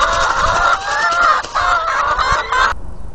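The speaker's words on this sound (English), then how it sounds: "No, not those chickens again." Chickens cluck and squawk in a dense, continuous flock chorus close by, with overlapping calls that run steadily for about three seconds before cutting off abruptly.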